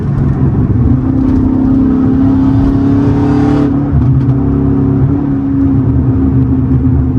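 A Dodge Challenger SRT8 392 Scat Pack engine roars under hard acceleration, a loud sustained growl that climbs in pitch, then eases off before pulling steadily again.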